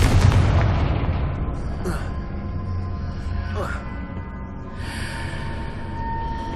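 A Confringo fire spell blast in Hogwarts Legacy, a loud low boom opening the clip and rolling off into a rumbling tail, with a couple of lighter crackling bursts after it over steady game ambience.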